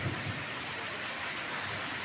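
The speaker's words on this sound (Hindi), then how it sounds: "इतना ज़बरदस्त बारिश हो रहा है, बिजली का चमकना, बादलों की गड़गड़ाहट" Heavy first monsoon rain in Mandla: a dense, steady hiss of downpour with a low thunder rumble underneath, constant and close throughout.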